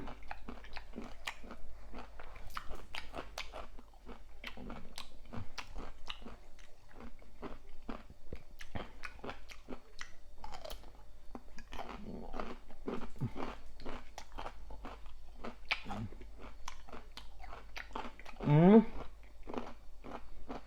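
Crunchy, crispy food being chewed up close, with a steady run of crisp bites and crackles and a brief murmur near the end.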